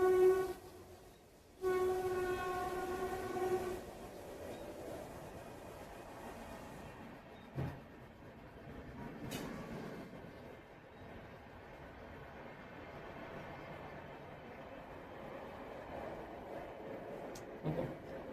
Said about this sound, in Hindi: अब दूसरी ट्रेन जाते हुए